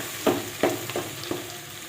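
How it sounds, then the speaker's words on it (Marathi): Ground spice paste sautéed in oil and masala for a village-style mutton curry, with a spatula stirring in several scraping strokes over a steady close sizzle. "वाटण टाकून छान असं परतून घ्यायचं आपल्याला मसाल्यामध्ये."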